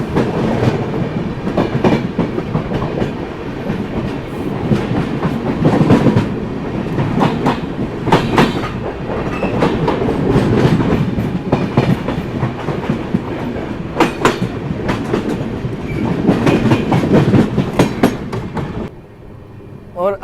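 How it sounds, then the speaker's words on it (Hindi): Marudhar Express train passing on the rails near Unnao Junction in India, loud continuous rumble with rhythmic clickety-clack of wheels over rail joints, close by, fading slightly at the end. "मलघर एक्सप्रेस को क्रॉसिंग करती है"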